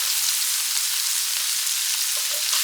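Ground beef with garlic and onion powder being stirred in a skillet gives a steady, even sizzle with a few soft scraping touches near the end, no voices.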